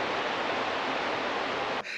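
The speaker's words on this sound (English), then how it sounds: "a lovely view over there with the sound of the river going past" A river flows past near a country house hotel overlooking Windermere, giving a steady, even rush of water that fills the scene and cuts off abruptly at the end.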